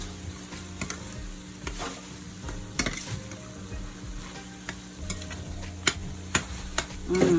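Shepherd's pie filling sizzling in a pan as flour is stirred in, with a steady frying hiss and repeated scraping, clinking strokes of a utensil against the pan, close and alone.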